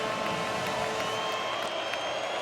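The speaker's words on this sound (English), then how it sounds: "Crowd trying to get into it." Stadium crowd at a college football game between Michigan and Indiana, a dense, sustained roar of cheering voices that fills the space evenly throughout.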